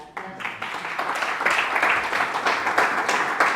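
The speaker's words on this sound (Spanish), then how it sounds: "Vamos a darle un aplauso." An audience applauds steadily after a lecture on ancient place names in Castilla-La Mancha, the clapping starting abruptly and holding at a fairly loud, even level.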